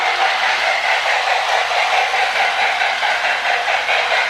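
A Marx Candy Cane toy log train with a smoking 898 engine and tender runs around its track, giving a steady, even whirring clatter that stays close and constant, with no voices.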